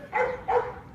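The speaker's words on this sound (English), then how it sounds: "They're freaking awesome dogs." Dogs at an animal shelter give two quick, close barks about half a second apart, standing out clearly against a quiet background.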